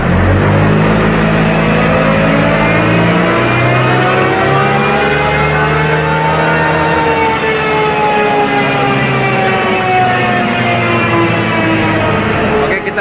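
Car engine held at high RPM on a dyno with an Accent Wire ignition cable, a loud sustained wail whose pitch rises and falls slowly, with a brief voice partway through.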